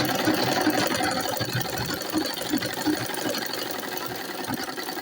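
Sewing machine top stitching around an Ankara cloth tote bag, a steady close mechanical whirr with rapid needle chatter running throughout.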